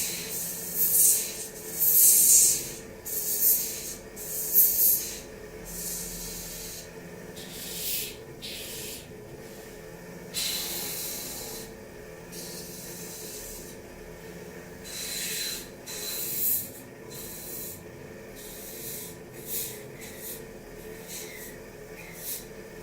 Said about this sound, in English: So, trim this end down.